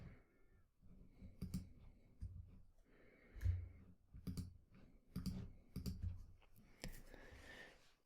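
A computer mouse clicks repeatedly and irregularly, quiet and close, with light clicks scattered across several seconds against a faint background.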